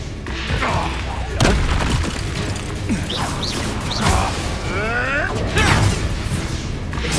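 Blasting Confringo spells go off in the Hogwarts Legacy video game as a few heavy booming impacts spaced several seconds apart, layered over busy game effects and character voices.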